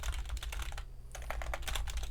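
Fingers type on a computer keyboard with rapid, close clicking keystrokes. A brief pause in the middle breaks the flow before the typing resumes at the same brisk pace, with no talking over it.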